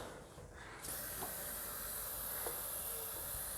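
A continuous spray of lubricant hisses steadily from an aerosol can onto garage roller door springs after a brief quiet start, close and fairly soft.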